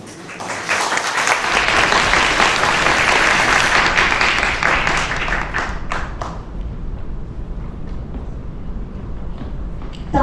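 Warm applause from the audience at a university graduation ceremony rises after a quiet start, holds as dense steady clapping, then thins into scattered claps toward the end.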